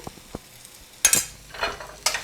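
Spoon scrapes and stirs frying masala for a Bengali egg korma curry over medium-high flame, with fried onions just added, giving short sizzling bursts in separate strokes, close and moderately loud.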